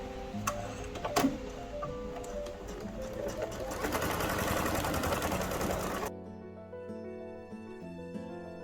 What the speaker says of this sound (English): I'm going to turn up my stitch length just a little bit so it looks pretty.